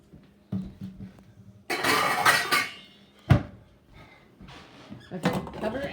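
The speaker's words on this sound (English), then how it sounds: "Oh, I gotta get the lid." A pot lid is fetched and handled in a kitchen while a beef burger dish is being cooked, giving several sharp metallic clanks and clatters, including one loud knock near the middle, with rustling handling noise and brief quiet gaps between.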